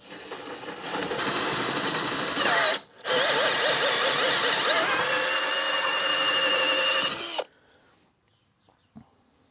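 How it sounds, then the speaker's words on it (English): A cordless drill bores with an oversized blacksmith's drill bit, bigger than the chuck, in a loud sustained whine. It pauses briefly once, then runs again for several seconds and stops, leaving a quiet tail. "we're using a blacksmith's drill, bigger than the chuck, in a cordless drill"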